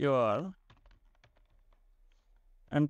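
Someone types a short program on a computer keyboard, producing faint, sparse key clicks in a quiet room, with a voice speaking just before and just after.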